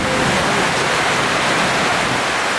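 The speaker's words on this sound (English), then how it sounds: "Yeah, it might be raining just as hard inside." Heavy monsoon rain pours down at the Chao Fah Variety Market night market in Phuket, a loud, constant, dense hiss of water with no break or voices over it.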